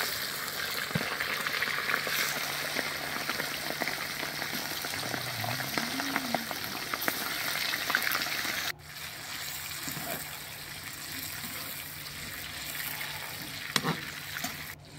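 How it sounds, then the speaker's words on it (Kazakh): Meat frying in hot oil after fat tail for Tashkent-style plov gives a continuous close sizzle with bubbling and occasional stirring clinks, softening for a moment partway through before carrying on evenly. "Одан кейін етті салып жақсылап қуырып аламыз."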